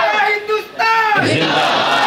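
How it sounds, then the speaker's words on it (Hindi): A crowd at a religious gathering in Govandi roars a loud, sustained takbir slogan in unison, a dense wall of massed voices filling the space after a brief dip. "अब फिर नारा लगाओ बाबू"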